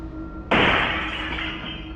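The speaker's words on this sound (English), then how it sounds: "The sound of glass shattering had me turning to the back door" Glass shatters suddenly as a sound effect in a horror narration, with a sharp crash followed by a bright, sustained tinkle of falling shards, loud and close with no voice over it.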